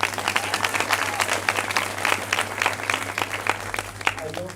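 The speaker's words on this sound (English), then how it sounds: "Please give yourselves a round of applause for making this." Sustained applause from a seated audience at a medical school MBBS pinning ceremony, close and busy with individual claps standing out, over a low steady hum.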